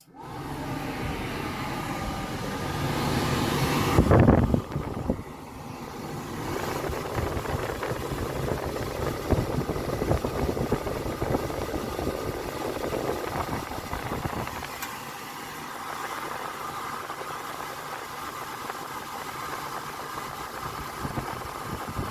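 A Suburban SF-30F RV furnace running after repair: a steady mid-pitched motor and blower hum with a brief ignition surge near the start, then an even drone without talk.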